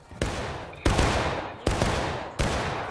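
Musket volleys ring out in the video game War of Rights, four loud massed blasts spaced roughly evenly over a few seconds, each one decaying into a ragged roar.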